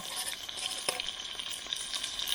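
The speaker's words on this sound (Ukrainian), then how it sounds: "Зараз тут буде шкварчати." Pork cracklings sizzling and frying in a wok at a riverside campsite, a steady dense crackle with small pops, close and continuous, no voices.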